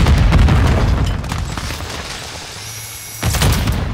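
A deep boom from a thrown lethal grenade going off in Call of Duty MW2, loud at the start and decaying into rumble, followed by a second sharp blast near the end.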